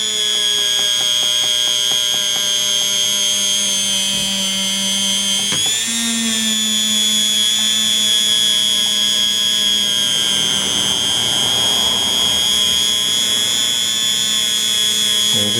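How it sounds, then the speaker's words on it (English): Dremel rotary tool polishing oxidized aluminum, a loud steady high-pitched whine that dips briefly in pitch as it presses into the metal, then carries on continuously. "instead of using your hand to work that in, we're going to use a Dremel"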